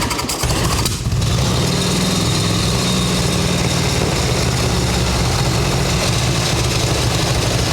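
A 1989 Harley-Davidson Ultra Classic motorcycle with intake and carburetor trouble idles loud and close, a steady low rumbling chug that holds even after a brief revving blip at the start.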